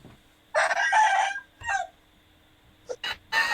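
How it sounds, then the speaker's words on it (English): A rooster in Bali crows nearby in a loud, drawn-out call, followed by a shorter second cry and a few clipped clucks and crows. "I'm on vacation in Bali, and there's a rooster here."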